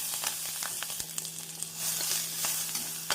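Chopped onion, green chilli and curry leaves sizzle loudly in hot oil for a cabbage and carrot poriyal, a close, continuous crackle broken by sharp stirring scrapes.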